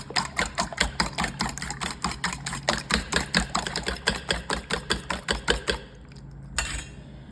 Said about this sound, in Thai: ตีไข่แบบเวลาเราเจียวไข่ทั่วไปเลย